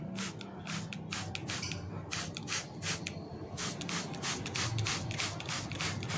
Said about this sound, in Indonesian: Akan saya semprot untuk tanaman jenis lain juga, tidak masalah